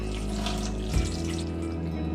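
Peeled ginger and turmeric rinsed quickly under running tap water, a steady close splashing stream with one brief louder gush partway through and no talking.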